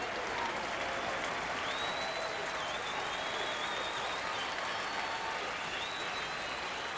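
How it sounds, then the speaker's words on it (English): Stadium crowd at an Angels baseball game at Angel Stadium in Anaheim, a broad sustained roar of cheering that holds steady throughout, with faint whistles rising above it. "Crowd picks up at Angel Stadium."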